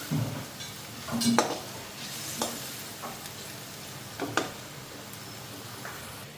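Meat simmering in a pot on the stove, a continuous low sizzle and bubbling broken by several clinks and scrapes of a utensil stirring against the pot.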